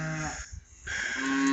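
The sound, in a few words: cows mooing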